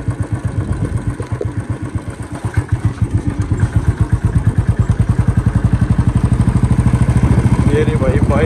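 A Royal Enfield Bullet motorcycle thumps along a road near Old Delhi, its loud single-cylinder exhaust beating in a rapid, even rhythm close to the rider and picking up pace as it rides.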